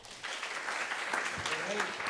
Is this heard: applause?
yes